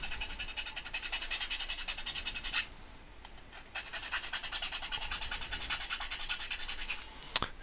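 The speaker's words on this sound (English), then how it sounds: "it's just a case of getting one of these little files here and just filing it down like this" A small hand file works down a plastic part on a Dick Smith M-9630 power supply. Close, rhythmic back-and-forth rasping strokes repeat steadily, with a short pause partway through before the filing resumes.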